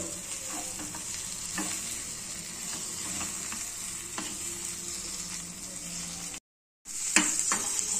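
Bottle gourd curry sizzles and fries steadily in a pan while a spoon stirs it, with scraping clicks of stirring over constant close frying hiss and a brief dropout near the end.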